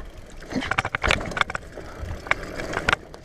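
A mountain bike descends a new dirt trail, giving uneven bursts of rattling and crunching from the tyres and frame, close and fairly loud, with no talk.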